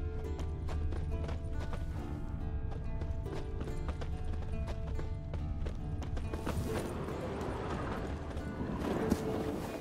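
In The Witcher 3 video game, a horse's hooves keep up a rapid clip-clop on hard ground, loud and close, over a busy layer of game ambience and rustling.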